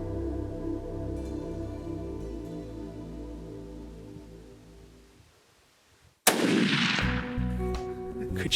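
A single loud rifle shot fired at a bighorn sheep on a mountain hunt, a sharp close crack with a rolling echo that follows a hushed lull over steady background music.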